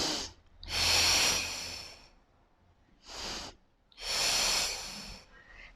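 Breathing during a staggered leg lift exercise: close, audible breaths in a slow rhythm, four long breaths of inhaling and exhaling with short pauses between them, with no talk.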